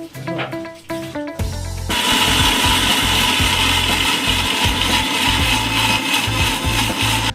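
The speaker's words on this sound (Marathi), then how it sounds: "त्याचं लावायचं मिक्सर. किती वेळ ठेवायचं बारीक होईपर्यंत." A mixer grinder blends watermelon peel with half a glass of water, starting with a few short bursts and then holding a loud, continuous whirring grind for several seconds, up close.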